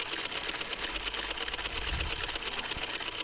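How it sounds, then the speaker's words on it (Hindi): A sewing machine stitches a decorative design on a salwar cuff, a steady, fast mechanical whirring with a rhythmic needle clatter heard up close, running without pause. "अब मैं इसके ऊपर कुछ इस तरीके से दूसरी सिलाई लगाऊंगी और इसे भी मैं इस तरीके से घुमाते हुए ही लगाऊंगी।"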